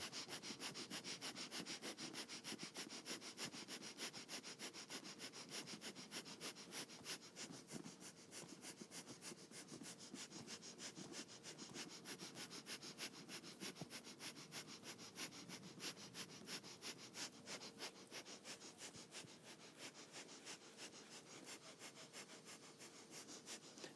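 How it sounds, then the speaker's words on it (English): Vigorous breath-of-fire practice, rapid forceful exhalations through the nose in a steady fast rhythm, close and continuous throughout with no talking. "Inhaling and exhaling through the nose. So you're going into a vigorous breath of fire,"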